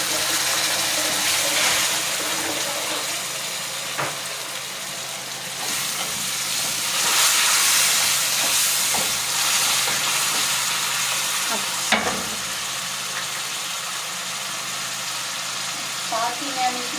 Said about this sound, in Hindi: और इसमें हम थोड़ा सा पानी शामिल करेंगे।